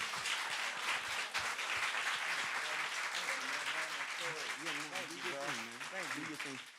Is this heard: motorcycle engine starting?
no